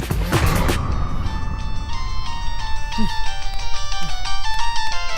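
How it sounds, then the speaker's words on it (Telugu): A phone ringtone plays a repeating electronic melody at moderate volume while people talk over it nearby. "నీకు ఫోన్"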